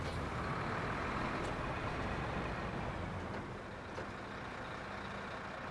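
In the game Snowrunner, the engine of a Land Rover 110 Defender, a 300 TDI 4x4, drones in a steady, dense, close rumble that stays level and unbroken throughout, with no talk.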